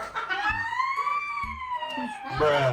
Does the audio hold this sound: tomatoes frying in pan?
no